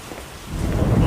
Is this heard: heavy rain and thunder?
yes